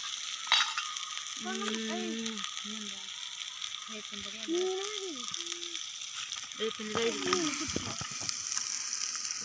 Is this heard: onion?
yes